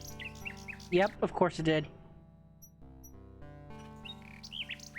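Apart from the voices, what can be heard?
bird squawking and chirping in video game King's Quest 6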